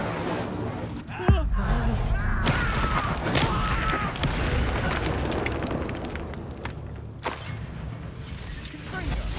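A fire spell blast erupts in the wizarding action game Hogwarts Legacy, a sudden loud burst followed by crackling, booming combat effects and further impacts, with shouted voices over the din.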